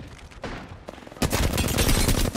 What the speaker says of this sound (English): I'm getting fucking shot in the back